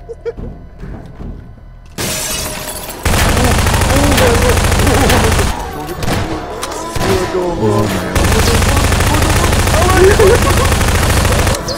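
Gunfire in Garry's Mod on a Hell's Prison map: loud, dense bursts of rapid shooting and crackling impacts that continue for most of the stretch, briefly interrupted by quieter moments, with voices talking underneath.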